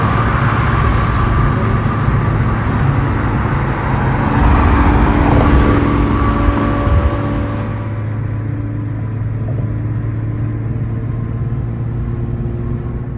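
A boosted Nissan 370Z pulls hard under steady engine drone that swells and rises near the middle, then settles into a lower, continuous road rumble as the run eases off.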